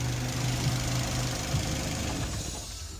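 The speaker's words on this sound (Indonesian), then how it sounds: "Knalpot bocor, nah gitu-gitulah." A Toyota Avanza with 300,000 km on it idles with a leaking exhaust, giving a close, steady low rumble with rhythmic puffing and knocking pulses and no talk over it.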